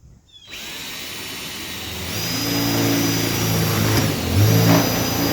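A power drill whirs up and runs steadily, boring a pilot hole for jon boat pontoons. Its pitch shifts as it bites, with a strong close motor whine that swells near the end.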